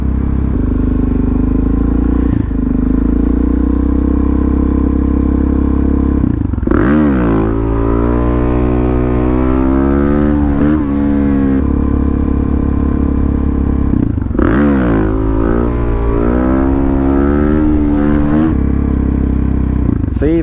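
A motorcycle engine idles loudly and revs up in several climbing surges during a wheelie bar test, each rise of pitch sweeping up and falling back to a steady rumble.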